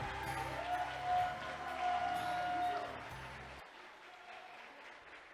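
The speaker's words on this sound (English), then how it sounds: "A nice big round of applause for Ryan and his mom." Wedding guests in a barn applaud together, a fairly faint, steady patter of many hands that carries on for a few seconds and then drops away to quiet room noise.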